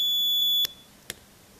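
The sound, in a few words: homemade alarm clock alarm going off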